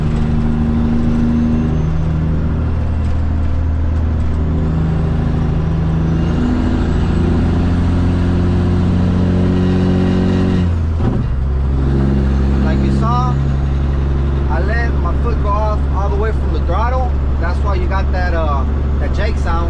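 An end dump truck hauling fine sand runs with a steady, deep engine drone heard from the cab, dropping into a low, rumbling jake brake chatter partway through while someone talks over it.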